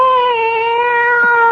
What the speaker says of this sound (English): Our tale is about a little old lady who ran from danger and was pursued by a cat.